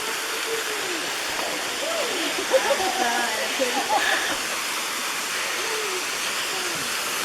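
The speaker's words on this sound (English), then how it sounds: "waterfall here." Deep Creek waterfall pours in a constant broad roar nearby, with faint voices and birdlike chirps mixed into the background.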